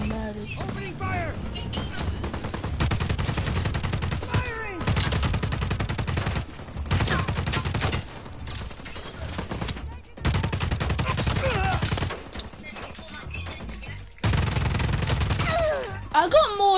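Gunfire in the video game Just Cause 4, loud sustained bursts of rapid automatic fire in several long volleys separated by short pauses, with people talking excitedly over the shooting.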